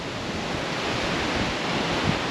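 Strong wind roars across Lake Ontario as waves break nearby, a steady dense rush with no voices, loud and unbroken throughout.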